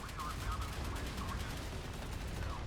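Naval guns firing during a battle in the warship game Modern Warships, heard as a faint, muffled rumble of repeated shots under a dense low roar.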